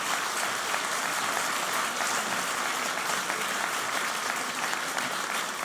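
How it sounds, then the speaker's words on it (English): An audience at an election hustings gives a sustained, even round of applause. The dense clapping holds at a steady level from start to finish, with no speech over it. "can we have a round of applause for Steve, please?"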